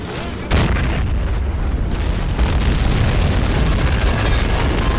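Grenade explosion in the video game Men of War: a sharp, loud boom bursts out near the start, followed by sustained rumbling battle noise and a second blast-like swell.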